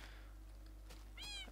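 A Siamese cat gives a short, close meow near the end, a rising then falling cry over quiet room noise and a steady low hum.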